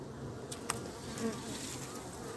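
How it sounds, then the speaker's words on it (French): Soft, steady buzzing of honeybees at the hive, faint and continuous, with an occasional closer bee passing by. "j'ai vu quelques abeilles qui commencent à sortir"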